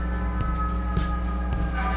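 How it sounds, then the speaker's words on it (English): An emergency vehicle siren sounds in the distance, a steady wavering tone held under faint indoor background noise, with a few soft knocks. "Here's the sirens."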